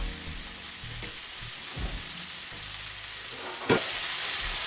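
Green peppers and onions frying alongside broccoli in a pan, a steady close sizzling hiss like light rain with a few soft knocks and one sharper clatter near the end.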